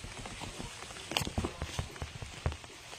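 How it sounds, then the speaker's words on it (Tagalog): Rain pattering down outdoors and growing heavier, with irregular drops and splashes hitting a surface up close, a steady wet hiss beneath the louder taps. "Medyo lumakas na yung ulan, so uuwi na kami"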